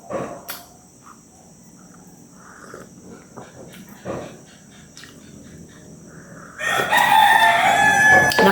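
Chickens cluck softly amid steady insect chirping, then a rooster bursts into a loud, drawn-out crow close by.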